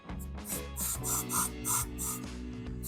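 Cleaner is sprayed onto a Honda ADV 160 motorcycle brake caliper in a series of short, rhythmic hissing bursts, fairly quiet against a low background hum.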